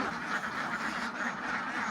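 Ducks on a farm quack in a busy, continuous chatter of overlapping calls, moderately close and fairly quiet, with no voices.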